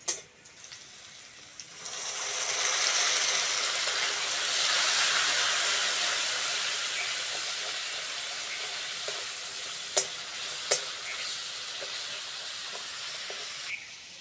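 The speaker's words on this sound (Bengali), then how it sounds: "পেঁয়াজটা ভালো করে ভেজে নিয়েছি, জিরে বাটাটা দিয়ে দেবো।" Cumin paste hitting fried onions in a hot pan for a fish head and cucumber curry, a loud sudden sizzle that swells then slowly fades, with a few sharp clinks of the spatula near the end.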